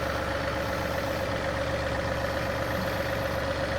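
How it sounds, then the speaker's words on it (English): A tractor engine idles with a steady, loud drone and a constant hum close by, unchanging throughout. "we're here on the tractor, try to pick up the trailer"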